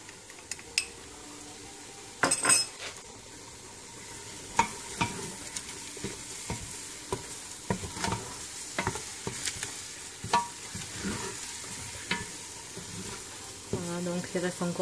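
Eggs and spices cooking for chicken pastilla as two tablespoons of cinnamon are stirred in, with an utensil repeatedly scraping and clinking against the pan over a soft, constant sizzle.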